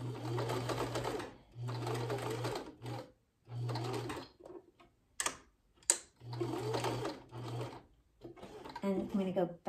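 Sewing machine stitching back over the darts of a DIY polyester-blend face mask, running in several loud bursts with short pauses between, close up, with a voice speaking in the gaps.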